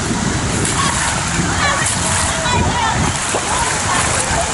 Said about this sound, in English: Splash the water on me.